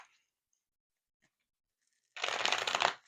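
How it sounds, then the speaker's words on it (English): A deck of tarot cards is riffled once in a short, crisp burst, preceded by near silence with a few faint taps. "I'm being told one more shuffle."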